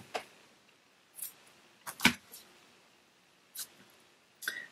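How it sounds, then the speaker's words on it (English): Scissors snip through crochet yarn for a gingerbread house project, a handful of short crisp cuts spaced irregularly, close and fairly clear with quiet between them. "So now I'm going to cut my yarn."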